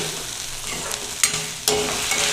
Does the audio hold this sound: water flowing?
no